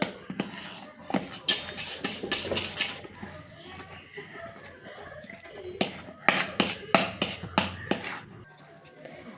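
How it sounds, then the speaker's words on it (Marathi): A spoon scrapes and clinks against a pot while mixing a salted dal and rice batter, irregular metallic taps clustered in bursts, with faint birds in the background and no speech. "आता आपण हे हलवून घेऊया छान चांगलं मिक्स करायचं"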